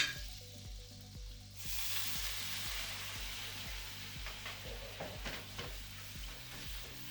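Baby prawns fry in butter in a pan, giving a steady, close sizzle that swells after a quieter opening and holds at an even loudness, with faint clinks from the pan.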